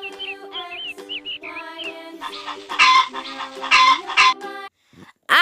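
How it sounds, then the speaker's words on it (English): A hen clucks in a series of short, bright calls, close and clear, with a few squawky bursts and brief pauses between them. "H for hen."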